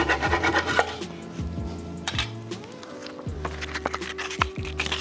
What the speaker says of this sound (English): Now I'm going to cut away the dowels.